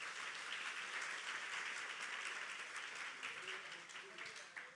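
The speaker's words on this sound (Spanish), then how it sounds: "Tú puedes darle un aplauso al Señor por eso" Church congregation applauding, a dense, steady wash of many hands clapping that holds evenly throughout, with some voices mixed in beneath the clapping.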